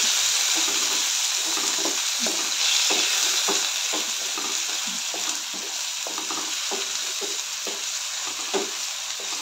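Onion and chopped potato sautéing in a pan for an aloo matar bhaji, with steady sizzling and frying and repeated soft scrapes and clinks of a spoon stirring through the mixture, close and continuous with no talking.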